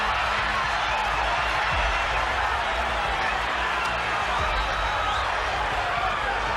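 A boxing arena crowd cheers Mike Tyson with a loud, steady roar that holds without letup, and faint commentary sits under the noise.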